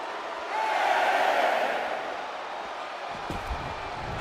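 Arena crowd in the WWE 2K25 wrestling game roars with sustained cheering that swells early, holds loud, then eases to a steady hum with a few sharper shouts near the end.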